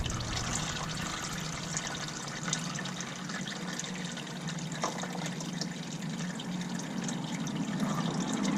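Motor oil trickles and pours steadily from a drained Can-Am X3 side-by-side into a funnel, a continuous close liquid stream with no talking.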